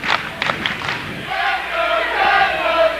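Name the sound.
crowd at a high school basketball game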